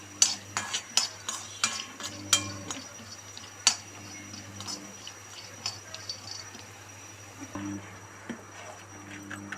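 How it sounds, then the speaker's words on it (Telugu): Grated coconut lightly frying in a pan for a chicken curry, with a steady soft sizzle under repeated close clinks and scrapes of a spoon stirring against the pan. "ఇప్పుడు కొబ్బరి వేసుకోవాలి కొంచెం కొంచెమే వేయకూడదు కొంచెం లైట్గా వేయించుకోవాలి"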